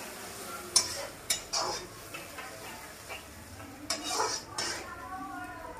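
A fish curry base of tomato and added water is stirred in a pan, with a spoon clinking and scraping against the metal in irregular bursts over a quiet bubbling background, close up and without speech.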